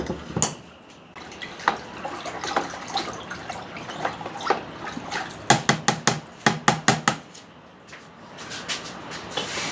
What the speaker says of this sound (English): I'm just going to add in a bit more water and get that all stirred up